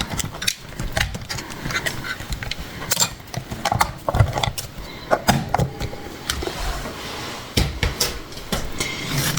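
A Crop-a-Dile hole punch works through scrapbooking paper with a series of close, sharp mechanical clicks and clacks, then the tool is put away with handling knocks and rustling.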